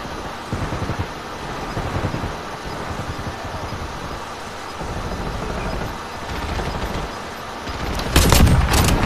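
Gunfire rattles through a Warzone match, with scattered pops and short bursts over a constant windy, rumbling background and a louder crack near the end.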